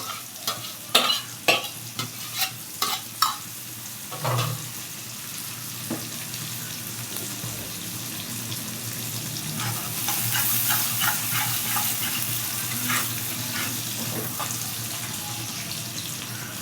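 Onion and garlic frying in an iron wok, a continuous sizzle broken by a quick run of scraping, clattering stirs early on, then a louder, fuller hiss later.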